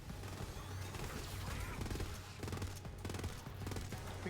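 Sustained full-auto gunfire from a Borderlands video game, a dense rapid rattle of shots running continuously and loud throughout, with no talking over it.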